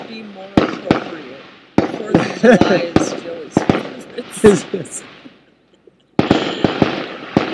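Sharp fireworks bangs and crackles pop off in irregular clusters at a reservation vigil where people buy and set them off, some close and loud, with a short lull before a fresh burst, while a person talks over them.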